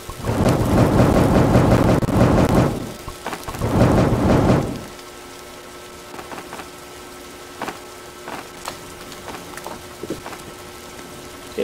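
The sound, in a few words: rain and thunderstorm in a video game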